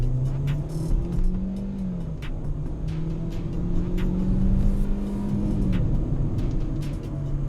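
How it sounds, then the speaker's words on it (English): A 2021 Kia Stonic 1.4L EX automatic accelerating from inside the cabin, a steady engine drone rising in pitch through a gear change, constant and fairly loud with road rumble underneath. "So that's just a bit of acceleration right there."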